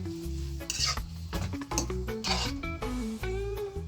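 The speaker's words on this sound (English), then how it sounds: "I'm gonna saute in the butter" Carrot and garlic saute in melted butter in a pan while a utensil stirs, with soft sizzling under scraping and clinking of metal against the pan, close and quiet.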